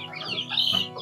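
Chickens cluck softly close by, a few short clucks in quick succession with no one talking.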